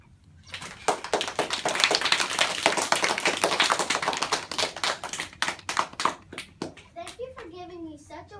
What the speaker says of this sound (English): Class gave a polite and resonant a round of applause, and Mr. Flanagan smiled and nodded his head